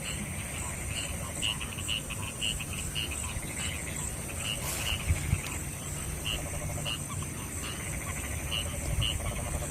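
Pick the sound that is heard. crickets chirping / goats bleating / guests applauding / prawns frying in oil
crickets chirping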